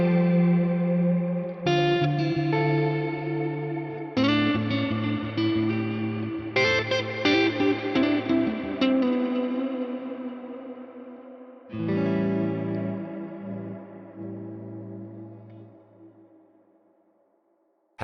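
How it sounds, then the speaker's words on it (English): An electric guitar plays through a Fractal FM3 with a Plex Reverb ambient effect. Sustained chords strummed every few seconds bloom into a wide, shimmering wash of reverb and echo that fades slowly at the end. "if I turn the reverb off and I use the Plex Reverb as my big ambient sound"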